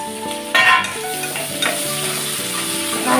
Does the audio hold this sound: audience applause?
no